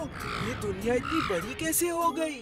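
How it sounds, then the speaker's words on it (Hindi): Cartoon crow caws in a Vir The Robot Boy action scene, several short harsh calls mixed under an animated character's continuous speech. "ये कौवा मेरे पीछे क्यों पड़ा है?"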